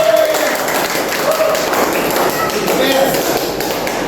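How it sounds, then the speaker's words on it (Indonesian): Hands clap in a room during a PMI West Sulawesi public-relations public-speaking workshop, a dense steady patter of taps and thuds with voices murmuring underneath. "tepuk tangan kita"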